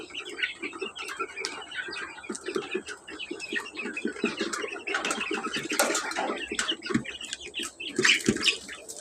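Native chickens flap their wings and call in a busy farmyard, with bursts of fluttering, clucks and chirps, plus some distant bird calls and a faint voice.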